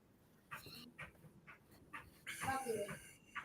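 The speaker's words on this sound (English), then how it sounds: "He's barking at a bird." A pet dog at home reacting to a bird: soft, scattered whimpering yips and barks in the background while someone talks over them, ending in a louder, busier burst.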